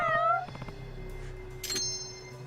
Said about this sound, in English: But I heard 2 cat noises.